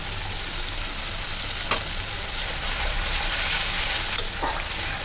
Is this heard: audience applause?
no